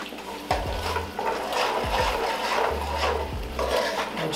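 A spoon scrapes and sloshes through a pot of mushroom soup after stock is added, giving steady wet rubbing strokes over a low continuous hum.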